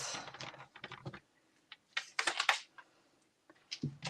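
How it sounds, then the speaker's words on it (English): Strips of candy-cane striped paper cut to card width with a paper trimmer, giving quiet clustered clicks and sliding scrapes in short bursts, close and faint with pauses between. "And then I want to cut them to the full width of a card, so 4 1/4."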